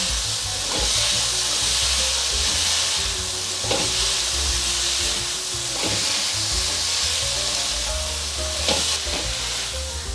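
Asparagus stir-fried in a hot pan, with a steady loud sizzle and hiss running throughout and periodic scraping strokes of a spatula tossing the spears, no voices.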